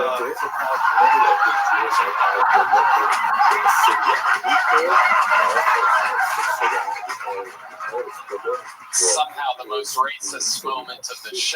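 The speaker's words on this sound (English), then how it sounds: "That sound is called Jungle Bird." A Jungle Bird sound effect plays from a soundboard, a dense, chattering, squawking bird call that fills the first several seconds before fading into choppier bursts, while someone talks over it.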